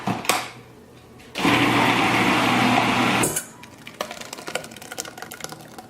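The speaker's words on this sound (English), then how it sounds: "now I'm going to put all of these into the food processor" A food processor whirs loudly for about two seconds as it chops tomatoes, framed by quieter clattering and handling sounds before and after the burst.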